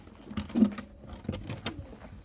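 Young pigeon squabs shuffle and flutter restlessly in a cage, giving soft, close rustles, taps and wing patters, faint with a low coo, with no talk.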